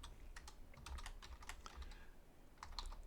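Code is typed on a computer keyboard in a quick, irregular run of soft, close key clicks with short pauses, quiet and alone.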